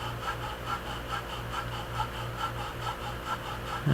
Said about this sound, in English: I'm going to carefully make some turns with the 20 millimeter sizer